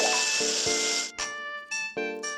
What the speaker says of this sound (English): I'm spraying the water right in Fifi's face